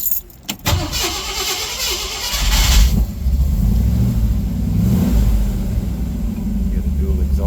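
A 1958 Ford Fairlane 500 Skyliner retractable with a 312 V8 cranks and fires up after a few clicks, then settles into a loud, close, steady rumble with light revving swells.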